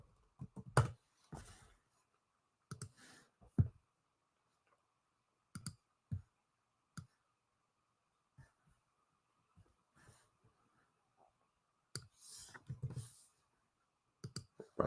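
Sharp computer mouse clicks and short key taps come in sparse, separated bursts during a keyboard shortcut, close and crisp against near silence.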